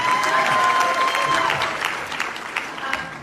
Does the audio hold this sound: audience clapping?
yes